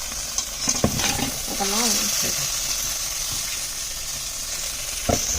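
Eggplant and peppers sizzling in a pan, a steady broad hiss of frying running throughout with a few brief stirring clatters, while someone speaks briefly over it.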